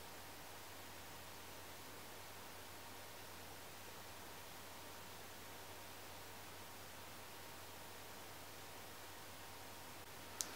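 Steady broadband hum of three computers running in a workshop, a constant soft whir with a faint low tone, unchanging throughout, with a small click near the end.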